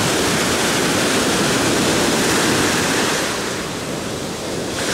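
Ocean surf washes steadily onto a Florida beach, a loud continuous broadband roar of breaking waves with light wind, easing slightly near the end, with no voices.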